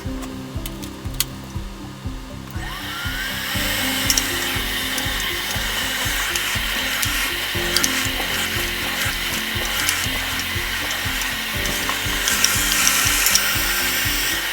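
A UWANT dog hair vacuum with a brush attachment runs with a steady, loud motor whine, and brushing and scraping noises pass through it as it is worked over a dog's coat.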